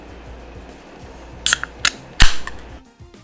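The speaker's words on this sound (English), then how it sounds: "So I'm gonna go ahead and crack it open." A Kettlehead Brewing exotic IPA being cracked open: a few sharp metallic clicks and snaps, then a louder pop with a brief hiss, close and distinct against quiet background noise.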